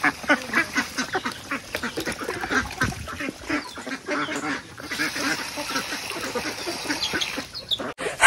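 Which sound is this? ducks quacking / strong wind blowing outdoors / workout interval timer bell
ducks quacking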